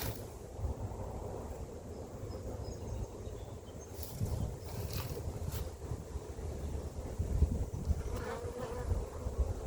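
Honeybees buzzing steadily and densely during a hive inspection after splits, a close, continuous hum with some wind rumble on the microphone and no talking.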